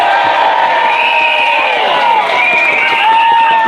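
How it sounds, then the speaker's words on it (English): Crowd at a London anti-ULEZ rally applauding and cheering outdoors, a loud dense roar of whoops and shouts over scattered clapping, sustained throughout. "Show them support, big round of applause to them."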